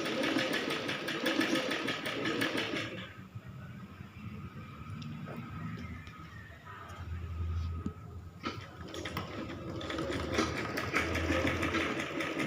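Steady, close whirr of a sewing machine stitching thin piping around a baby's long frock, running continuously with a brief slowdown in the middle.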